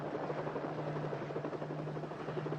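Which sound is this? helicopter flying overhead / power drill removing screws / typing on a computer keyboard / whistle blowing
helicopter flying overhead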